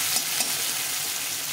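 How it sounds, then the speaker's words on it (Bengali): Chopped onions frying in oil, a brief, dense sizzle heard close and steady, with a couple of faint stirring scrapes. "পেঁয়াজগুলো দিয়ে দিলাম, দিয়ে এটাকে ভালো করে একটু ভেজে নিতে হবে"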